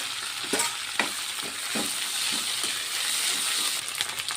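Washed mint and curry leaves frying in oil in a kadai, giving a close, continuous sizzle with soft crackles and a few spatula stirs.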